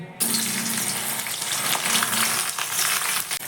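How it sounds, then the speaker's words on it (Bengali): Chopped okra drops into hot mustard oil in a pan and sets off a loud, hissing sizzle that starts abruptly and continues steadily, with small crackles and pops. "আমি এবার কেটে রাখা ঢ্যাঁড়সটা দিয়ে দিচ্ছি এর মধ্যে"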